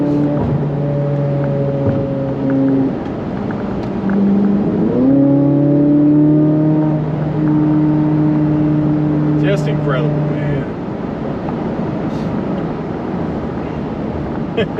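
A 2024 Corvette Z06's naturally aspirated engine revs while driving, its tone climbing through gear changes and then settling into a loud, steady drone, close up inside the car with a voice talking over it.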